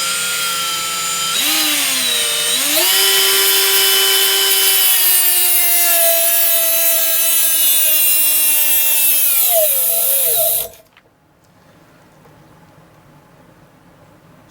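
A Milwaukee M12 FUEL 1/4-inch right angle die grinder screams at high speed, its pitch dipping and wavering as it is loaded during a stall test, then cuts out abruptly into quiet.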